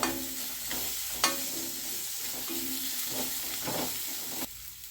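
Mint and coriander leaves sautéing in a pan for masala macaroni, a steady close sizzle broken by scraping stirs and a couple of sharp clinks, with the frying dying down near the end.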